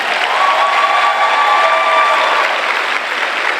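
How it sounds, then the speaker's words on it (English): Loud, dense applause from a large crowd at a school district back-to-school convocation, a sustained roar of clapping that fills the whole stretch without pause. "Please give her another round of applause."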